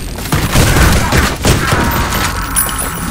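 Enemy gunfire in the shooter game Ion Fury crackles as a rapid, loud burst of overlapping shots and thuds that lasts for a few seconds.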